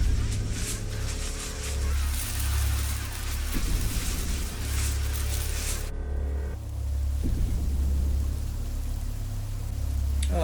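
A cartoon torrential rain downpour roars as dense, steady broadband hiss over a low rumbling hum, continuous and loud throughout, with a brief shift in texture midway.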